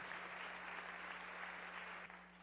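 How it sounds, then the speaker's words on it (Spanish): A church congregation applauds steadily during a Spanish-language worship service, a dense, even wash of clapping that holds at constant loudness from start to finish. "Dale ese aplauso al Rey en esta mañana."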